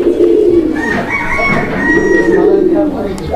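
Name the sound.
Giachulli pigeon cooing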